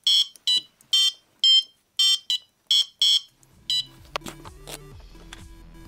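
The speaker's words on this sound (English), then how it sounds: "I then tried the same thing with a buzzer, which sounds similar, but a bit worse." Harsh, piercing tones from a buzzer driven by an Arduino playing a MIDI melody pulse in a quick rhythmic pattern of beeps, then give way to a quieter stretch of scattered electronic notes.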